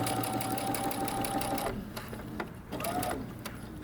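A sewing machine stitching fabric for paper bag drop crotch pants, a steady rapid mechanical chatter that briefly slows and pauses midway before resuming, with a faint motor whine beneath.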